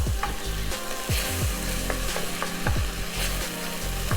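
Seasoning for a Peruvian minute soup sizzles and fries in a pot, a steady close crackle broken by rhythmic spoon scrapes and stirring strokes repeating every half second or so.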